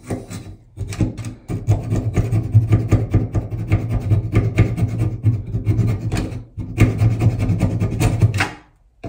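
A saw cuts a broken shower arm pipe stuck in a wall, a loud, steady rasping back-and-forth stroke that runs for several seconds, pauses briefly, then resumes before stopping.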